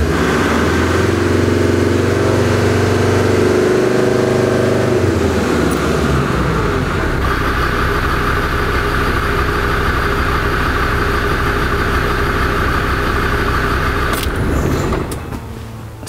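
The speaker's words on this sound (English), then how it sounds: "as soon as we turn it on you will see all the different readings" Land Rover Defender TD5 diesel engine idling steadily, then throttled up into a rougher, busier drone that holds before fading near the end.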